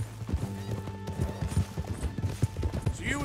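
Horses galloping in Red Dead Redemption 2, a quick, steady clip-clop of hooves close by with a low rumble and faint voices in the background.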